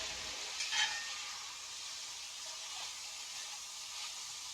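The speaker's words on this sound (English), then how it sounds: "I love that sound of that grease going in the pan" Grease sizzles steadily in a pan as chicken fries for adobo, a continuous close hiss with a brief louder crackle near the start and no talking.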